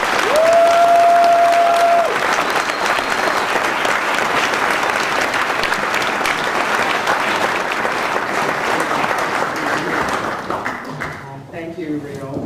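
An audience at the 2018 Viola Desmond banknote celebration applauds as the Honorable Dr. Mayann E. Francis is introduced. The clapping is loud and sustained, a dense wash that thins and fades near the end.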